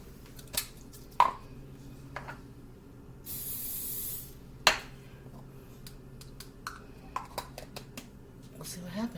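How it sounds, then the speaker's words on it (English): Cooking spray hisses out of a can in one steady burst of about a second for no-bake chocolate cookies, set among quiet kitchen clicks and light taps. "I should probably spray."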